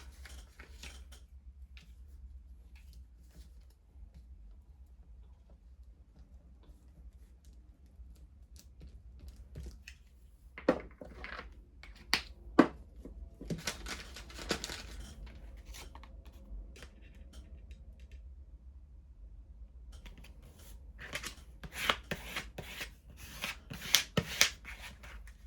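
Paper for a handmade craft notebook is trimmed in a quiet room, starting with faint scattered snips and rustles, then clusters of crisp cutting and shuffling clicks grow busier toward the end.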